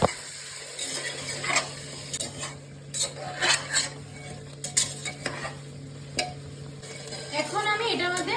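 Sour yogurt is stirred into chicken in a pot over a low flame for chicken tehari, with a spoon scraping and clinking against the metal in irregular strokes over a soft sizzle.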